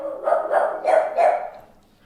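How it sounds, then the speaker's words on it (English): A dog barks four times in quick succession, close and fairly loud, followed by a brief quiet. "Madeline hears the neighbor dogs barking and she wants to join in."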